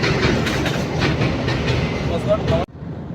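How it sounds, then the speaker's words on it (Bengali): A train rushing past close by with a loud, steady roar and clatter of wheels that cuts off abruptly near the end, leaving quiet background. "ট্রেনটা চলে যাবে।"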